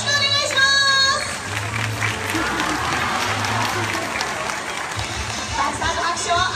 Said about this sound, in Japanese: たくさんの拍手をありがとうございました。